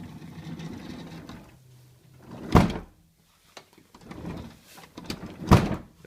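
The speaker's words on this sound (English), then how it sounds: "we have a 2003 Dodge Grand Caravan with a sliding door that won't latch" Sliding side door of a 2003 Dodge Grand Caravan that won't latch, slammed twice with two loud thuds about three seconds apart, each followed by a rattle of the loose mechanism.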